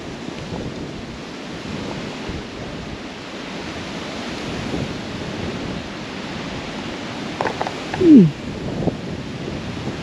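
Wind rushes steadily outdoors at Womack Water on the Norfolk Broads, a broad, blustery noise buffeting the microphone, with a brief higher gust or call near the end.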